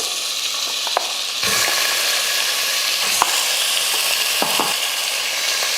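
Half a kilo of chicken frying with golden, softened onions in a pan for a chicken kuzhambu, a steady loud sizzle that swells after a moment, with occasional scraping stirs and no talk.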